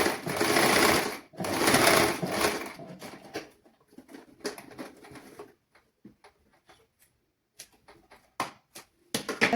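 A sewing machine stitches a little girl's pants in two long whirring bursts at first, then gives way to shorter intermittent runs and clicks of stitching, loud and close.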